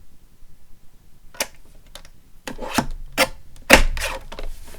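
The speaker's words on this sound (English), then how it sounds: "I'm just going to trim the smallest smidge off here" Scissors trim a tiny sliver from a paper tag, giving a few crisp snipping and rubbing sounds close up after a quiet start.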